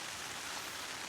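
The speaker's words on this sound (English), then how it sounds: "Hopefully this rain stops, because I don't fancy getting absolutely soaked." Steady rain on the Isle of Mull makes a dense, even hiss throughout, fairly faint and without any voices.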